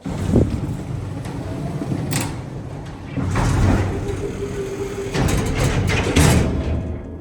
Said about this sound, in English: My gosh, that door slammed loud.